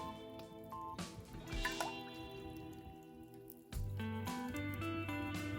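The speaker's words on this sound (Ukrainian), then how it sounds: "наливаємо багато олії" Plenty of cooking oil pouring and dripping into a metal cauldron, a soft gurgling stream with occasional splashes and drips, fairly quiet and close.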